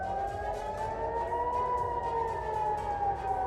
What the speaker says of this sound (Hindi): रॉकेट हमले के बाद शहर में सायरन की आवाज सुनाई थी।